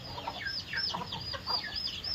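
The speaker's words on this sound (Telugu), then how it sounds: "ఇగో తెల్ల కోడిపెట్ట కూర్చుంది చూడండి" A white country hen sits brooding in a nest, giving soft, repeated clucks in an even rhythm, fairly close and alone with no talk.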